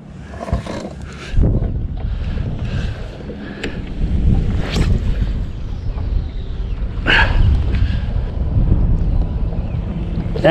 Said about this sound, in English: And the wind's starting back the other way again.